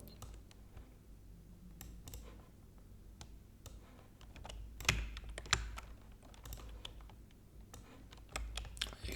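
Typing on a computer keyboard to enter a chatbot prompt, a steady run of close, soft key clicks with a few louder taps around the middle, no voices.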